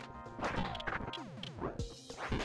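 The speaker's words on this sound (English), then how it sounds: "Oop, I smashed a chair." A chair smashes apart in the video game Death Road to Canada, a short burst of crashing, splintering hits with sharp whacks and falling debris, loud and close with no talking.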